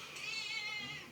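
A single short, fairly loud cat meow, rising and falling over about a second, close to the listener in a quiet indoor room.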